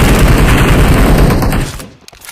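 A loud burst of gunfire in PUBG Mobile fills the clip, then cuts off abruptly, leaving a faint echo and a quieter pop.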